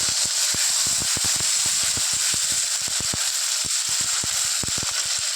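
Spice paste with turmeric and salt fries in hot oil in a pan for Bengali tel koi fish curry, giving a loud, steady hiss and sizzle with dense crackling pops close up.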